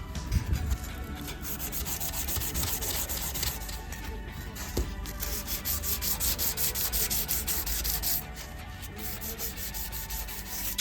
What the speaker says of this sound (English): I got a lot more sanding to do